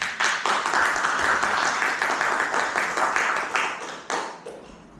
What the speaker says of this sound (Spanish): recibiendo a nuestro ponente con unos fuertes aplausos